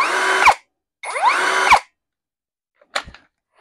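A Makita DLS50 miter saw spins up with a rising whine and stops almost instantly, twice in a row, each run ending in a sharp braking clunk, then a brief clatter.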